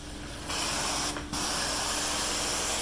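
A truckmount carpet cleaning wand sprays hot water in a steam stroke, a loud continuous hiss that drops out briefly midway, then resumes at full force with no talking.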